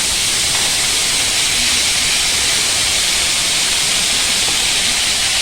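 Coriander leaves hiss and sizzle steadily in hot oil with urad dal, mustard seeds and chana dal for a tomato chutney, a loud, broad, continuous frying noise with no talk over it.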